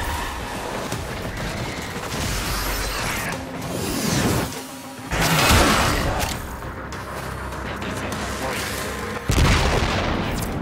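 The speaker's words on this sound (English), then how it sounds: "I'm picking up huge subterranean explosions below ground." Dense booming explosions and gunfire-like blasts from the video game Warframe, loud and continuous with several heavy bursts, layered under game sounds and some speech.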